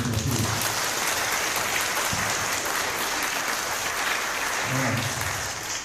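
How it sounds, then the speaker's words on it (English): A room full of attendees at a Cleveland tech mixer claps steadily, a thick rain-like wash of applause with brief bits of voice poking through near the start and end. "One more round of applause."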